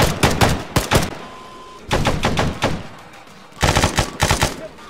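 Gunfire in S.T.A.L.K.E.R.: three separate bursts of rapid automatic shots, close and loud, with short quiet gaps between them.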